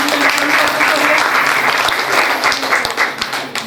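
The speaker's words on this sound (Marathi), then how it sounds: "मीना येल्दी ताईंना जोरात टाळ्या" An audience at a Sankranti celebration bursts into loud, dense applause, close and continuous with some uneven swells, and voices mix in with the clapping.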